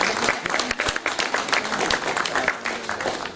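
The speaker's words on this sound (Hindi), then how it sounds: "इन बच्चों की तालियों से एक बार हौसला अफजाई जरूर करें" Audience applause for a children's street play on disability awareness: dense, steady clapping from a crowd, loud and sustained throughout with a few sharper individual claps.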